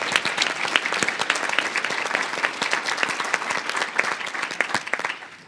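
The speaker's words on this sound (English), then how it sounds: "Please, another round of applause." A conference audience applauds a panel on countering the global anti-LGBTQ movement, with dense, sustained clapping whose individual sharp claps stand out, steady throughout and tapering off at the end.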